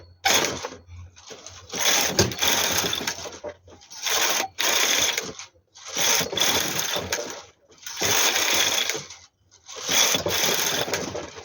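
A knitting machine carriage slides back and forth across the bed knitting rows of a lace pattern, each pass a loud mechanical whirring rasp about 1.5 seconds long. The passes repeat in a steady rhythm with short pauses between them, close by.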